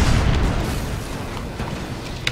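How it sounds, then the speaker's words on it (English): A siege tank in StarCraft II firing at long range, one heavy booming explosion that rolls into a dense, rumbling blast lasting about two seconds. "my tank is shooting stuff at crazy range."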